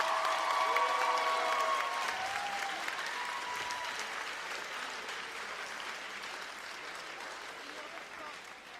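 Applause from an audience at a school thank-you ceremony, broad and sustained across the room, starting strong and slowly thinning and fading toward the end.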